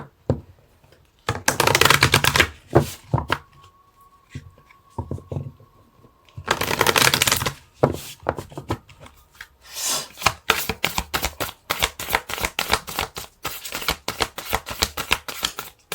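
Tarot cards shuffled by hand in bursts: a long riffling rush, a pause, another flurry, then quick rapid card slaps and taps, close and crisp with no talking.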